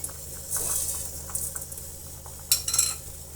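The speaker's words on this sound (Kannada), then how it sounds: "ನಾನು ಒಂದು ಮೂರು ಸ್ಪೂನಷ್ಟು ಹಾಯಿಲ್ ಹಾಕ್ತಾ ಇದ್ದೀನಿ ನೋಡಿ ಈ ಸ್ಪೂನಲ್ಲಿ ಈಗ ಅದರ ಜೊತೆಗೆ ಸಾಸಿವೆ" Mustard seeds in about three spoons of hot oil in a pan, giving a light crackling sizzle with scattered sharp pops, including a brief burst of spitting near the end, close and alone.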